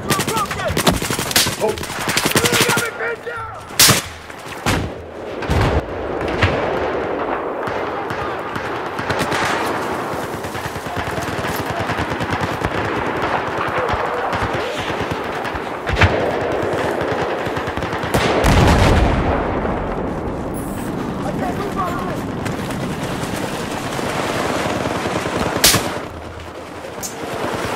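A Battlefield 4 firefight with dense, continuous machine gun and rifle bursts, loud and close, with rapid cracks throughout and a brief exclamation from a player.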